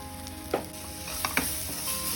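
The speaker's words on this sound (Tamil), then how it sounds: "பச்சை வாடை போகிற அளவுக்கு நல்லா வதக்கிடணும்" Onions with turmeric, salt, chili and coriander powder sauté in a pan for egg gravy, sizzling steadily with a few scraping stirs of a spoon.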